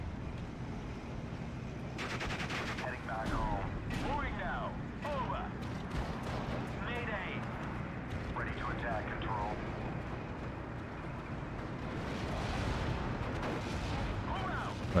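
Bombing and artillery fire crash and rumble in the WWII strategy game Steel Division: Normandy 44, with repeated booming impacts and bursts of gunfire layered over a continuous battle din.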